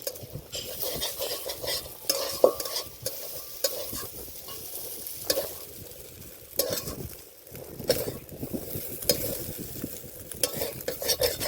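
Shrimp frying in a pan for a Bengali jackfruit-and-shrimp dish, with steady sizzling and repeated stirring scrapes, fairly close, with no talk.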